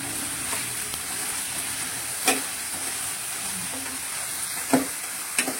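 Sliced onion and curry leaves frying in oil in a pan, giving a soft continuous sizzle with a few brief sharper crackles and stirring clicks, faint and close, with no talking.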